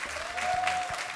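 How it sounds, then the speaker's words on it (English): A short burst of applause from guests at a couples event, clapping fairly close with a thin tone humming underneath and a faint voice or two in the background. "Put a clap."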